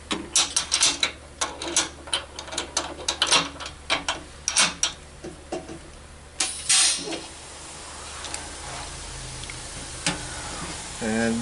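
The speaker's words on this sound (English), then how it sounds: "We go ahead and machine the 3 angles into the head" A machine cuts valve seat angles into a Ford 390 cylinder head. Irregular close mechanical clicks and grinding bursts give way to a steadier whirring hum.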